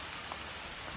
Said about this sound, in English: standing right now in the pouring rain giving you this video